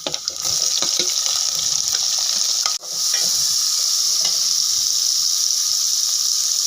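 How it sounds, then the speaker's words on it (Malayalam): Onion frying with ginger, garlic and green chilli for a Kerala-style soya chunk roast, a steady loud sizzle with stirring scrapes throughout and a brief dip midway, no talking. "നമുക്കിനി ഇതിനകത്തേക്ക് സവാള ഇട്ട് കൊടുക്കാം"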